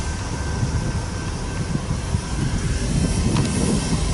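A southbound freight grain train rumbles past steadily with low clattering and a faint whine from the wheels, continuous and moderately loud throughout.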